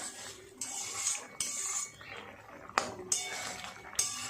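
A metal lid comes off a cooking pot of simmering pointed gourd, giving several sharp clinks and clatters of metal on metal, close and fairly loud, spread unevenly over a few seconds with no talking.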